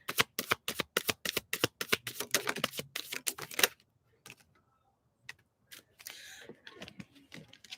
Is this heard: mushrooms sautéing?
no